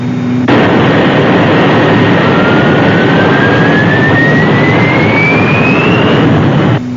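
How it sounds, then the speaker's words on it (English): Loud roaring vertical jet engines of a Thunderbird rescue aircraft blast continuously for several seconds, a rising whine climbing over the dense rumble, then cutting off abruptly. "Your vertical jets are tipping it over."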